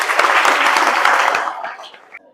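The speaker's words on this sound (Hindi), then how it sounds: "तो एक बार श्यामा हॉस्पिटल के लिए ताली सभी लोग।" Crowd applause at a school marathon event: a burst of many hands clapping, loud at first and then thinning out and fading to a few scattered claps.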